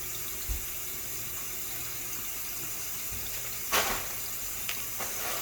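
Water runs steadily from a tap over a plant's roots during a semi-hydro conversion, a continuous close hiss and splash with a few brief louder bursts of splashing.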